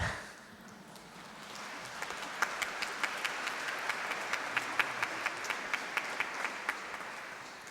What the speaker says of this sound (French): Il y a des petits applaudissements.